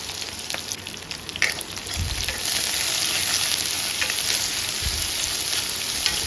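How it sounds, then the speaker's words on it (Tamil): Shallots cut lengthwise frying in oil for Kongu-style Pallipalayam chicken, a steady dense sizzle throughout with occasional louder crackles and scraping stirs, no voices. "சின்ன வெங்காயம் நல்லா கோல்டன் ப்ரௌனாக வதங்கினதுக்கப்புறம்"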